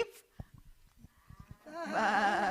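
Several people in a Christmas pageant crowd imitate sheep with their voices, giving loud, wavering bleats that swell together in a chorus after a few scattered short sounds.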